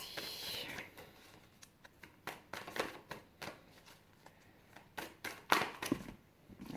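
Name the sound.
shuffling and cutting a deck of cards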